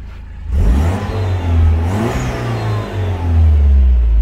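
A Citroen DS3 Performance engine with a Cobra decat exhaust revs loudly and close up, its deep note rising and falling through several quick blips.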